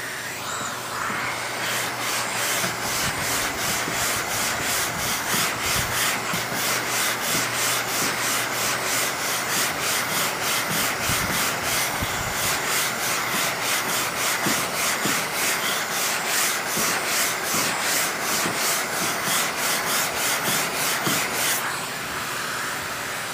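Block sanding body filler on a car panel produces a steady, close rasping scrub, with rapid back-and-forth strokes continuing nearly nonstop before stopping near the end.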